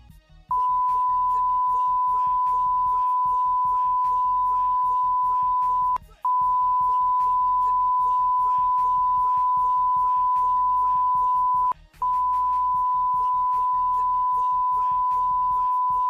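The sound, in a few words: censor bleep beeps over swear words in a rap clip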